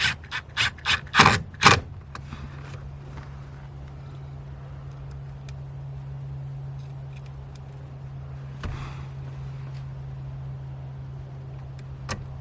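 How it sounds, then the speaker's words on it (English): Screws are driven back into the rear center console trim of a 2011 VW Tiguan 2.0 TSI, a burst of rapid ratcheting clicks up close, followed by a low steady hum with faint scattered taps. "Then ready to put the screw back on, the 2 screws."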